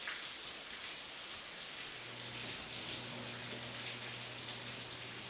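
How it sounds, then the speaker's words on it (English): Heavy rain pours outside in a dense, continuous hiss of drops on surfaces, steady and loud throughout, with a faint low hum joining partway through. "It's raining so fucking bad outside."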